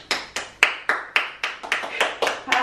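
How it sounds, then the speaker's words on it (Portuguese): A few people clap their hands at a home birthday celebration for a small child. The claps come as about ten sharp, fairly close slaps in a loose, quickening rhythm, with no one talking. "Palmas pra Lara"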